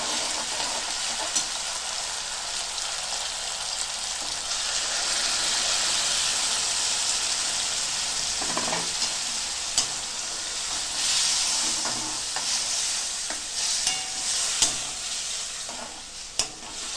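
Tomato gravy poured into sizzling ginger and green chili masala for dum aloo, a loud continuous frying hiss with intermittent spoon clicks and scrapes as the pan is stirred.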